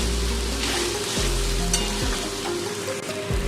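Ginger paste frying in a pan with garlic paste for a fish-head moong dal, a steady loud sizzle with a few clunks of stirring, no voices.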